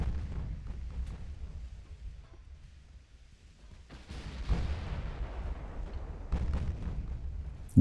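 Heavy 14-inch naval guns fire in a battleship engagement in the game Ultimate Admiral: Dreadnoughts, deep rumbling booms that come in a few separate waves and roll away into a low, lingering reverberation.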